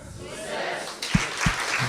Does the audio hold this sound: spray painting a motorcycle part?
no